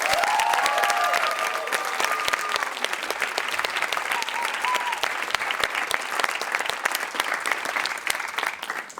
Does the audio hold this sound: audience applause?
yes